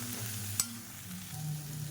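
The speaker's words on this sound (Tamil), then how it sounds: "இப்போ இதையும் ஒரு 2 நிமிஷம் வதக்கிக்கலாம்." Drumstick and brinjal sautéing in a pan for sambar, a faint, steady sizzle with a single sharp stirring clink early on, no talking.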